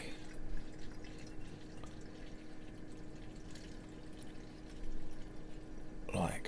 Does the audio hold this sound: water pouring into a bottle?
yes